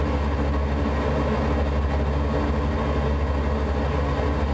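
Engine of a TL 2000 Sting S4 ultralight aircraft on a runway: a steady, loud, dense drone with a strong low hum that holds constant throughout, with no talk over it.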